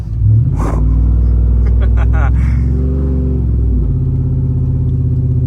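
A vehicle engine revs hard while bogging through snow on a snow day in the southern US, a loud low roar that surges and shifts pitch, with voices present in the background.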